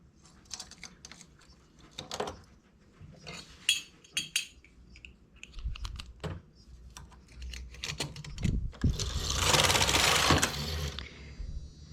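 Domestic knitting machine working a tuck stitch in medium yarn at tension 10, with comb and weights attached: a run of sharp mechanical clacks and ticks, then a loud rushing swish as the carriage sweeps across the needle bed.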